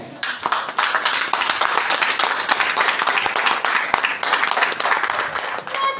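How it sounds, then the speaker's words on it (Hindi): An audience at a Nainital–Jim Corbett achievers celebration claps continuously for the top five achievers, dense sustained applause filling the room for several seconds, with a few louder individual claps standing out. "सारे साथी से गुजारिश है कि टॉप 5 लोगों के लिए खड़े होकर तब तक ताली बजाते रहे"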